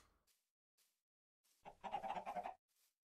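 Minecraft chickens clucking in a short burst of soft, gamey cackles, moderately loud and close, preceded by faint sparse ticks and followed by quiet; no one talks over it.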